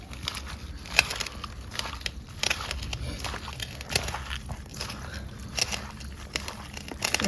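Chicken being mixed by hand with ground black pepper, mustard oil and whole garlic cloves, giving soft, wet squelching and crinkly handling noises in steady close bursts with faint background hum.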